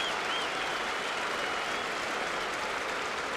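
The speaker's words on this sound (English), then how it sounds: "clapping for Lester getting up, which is a nice gesture" Yankee fans at a Red Sox at Yankees baseball game clap for Jon Lester as he gets up. The applause rolls steadily through the stadium crowd.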